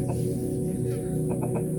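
Several short clucks from a fighting chicken about to be taken to the arena rise over a constant, noisy background hum, spaced out with a quick cluster near the end.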